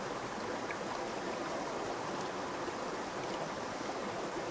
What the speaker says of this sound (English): We then pour the sample into the VOC vial